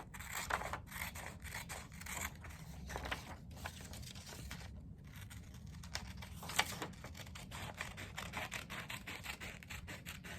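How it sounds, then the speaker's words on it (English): Scissors snip steadily around a paper pattern for a book-page folded tree ornament, a quick run of close, crisp cuts with brief pauses between strokes. "take your pattern and cut around the outside of it"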